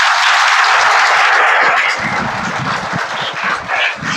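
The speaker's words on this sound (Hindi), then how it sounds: "इनके लिए एक जोरदार ताली लगाइए" Audience applause for the director at a coaching institute's ceremony in Mirganj: a dense, steady wash of many hands clapping that holds throughout, with no voices over it.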